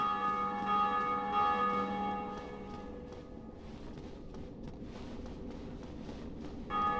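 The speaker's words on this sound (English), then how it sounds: "The bells do be dongin'. The bells do be a dongin'." Church bells ring in the Dark Souls video game, with sustained tonal strikes that decay and overlap, loud at first and then fading to a softer ringing, and a fresh strike near the end.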